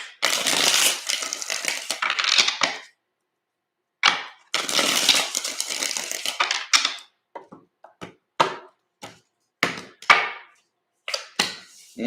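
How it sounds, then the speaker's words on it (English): Tarot cards handled and shuffled nearby: two long rustling, riffling stretches followed by a run of short crisp snaps and taps as cards are split and laid out. "Two more shuffles."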